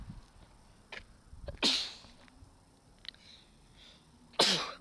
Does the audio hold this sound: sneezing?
yes